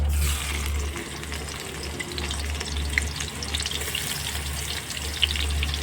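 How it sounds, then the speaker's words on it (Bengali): Sliced onion hits hot oil in a wok, giving a steady close hiss and crackle with a faint low hum underneath, as the first step of an old Bengali khir katla recipe. "তেল গরম হয়ে গেছে, এখন আমি কড়াইতে দিয়ে দিলাম পেঁয়াজ"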